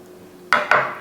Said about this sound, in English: I'm just going to cut this open just to show you how tender that is